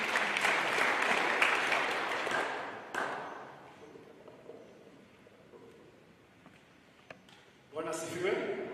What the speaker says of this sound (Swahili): So, pigia makofi.